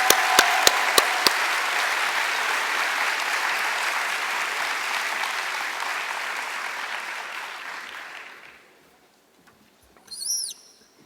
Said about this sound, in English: Please can we have a big warm round of applause.